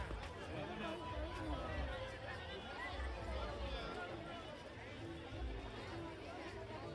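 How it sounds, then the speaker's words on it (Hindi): A dense crowd at a Durga Puja pandal in Ambagan, Rourkela, a steady murmur of many voices with shuffling footsteps, moderately close and continuous throughout, with no single voice standing out. "अम्बागान में भी भीड़ है गाइस"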